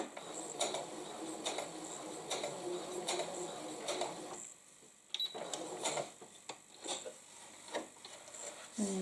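A sewing machine stitches back and forward on a quilt: quiet, rapid mechanical ticking in short bursts with brief pauses between runs, close by and with no talk.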